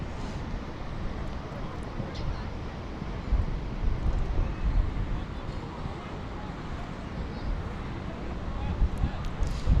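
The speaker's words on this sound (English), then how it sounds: "the wind's really strong now" Strong gusting wind buffets a drone's microphone above Leyton, London, producing a loud, continuous low rumble and roar that swells and eases across the whole stretch.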